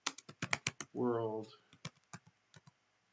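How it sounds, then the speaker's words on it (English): Code is typed on a computer keyboard in Visual Studio for a Unity project: rapid, close clacking keystrokes in bursts, with a short spoken word in between. "And I finish typing that line."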